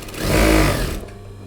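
A sewing machine runs a continuous stitching burst along a seam joining the sleeves of a man's shirt, loud and steady for about a second before stopping.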